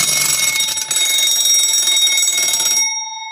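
An 1875 fire alarm box rings as it is opened, a loud, close, continuous metallic bell alarm sounding alone for about three seconds before cutting off, leaving a fading ring.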